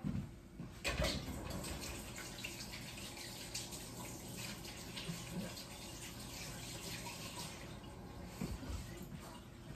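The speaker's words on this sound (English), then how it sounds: "I'm gonna wash my hands real quick." Hands being washed under a running kitchen tap during home canning, a steady close stream of water with small splashes and clatters throughout.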